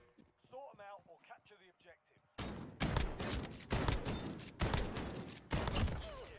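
Rapid video game gunfire bursts in after a stretch of excited talk, loud and dense, in repeated volleys with short gaps between them.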